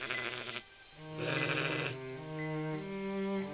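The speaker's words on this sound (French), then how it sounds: "dans la vieille voiture, il voit une brebis couchée" A sheep bleats loudly and close by in a long wavering cry, followed by further drawn-out bleats with no talking.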